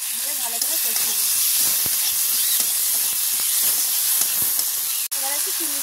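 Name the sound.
spices frying with garlic, ginger and cumin paste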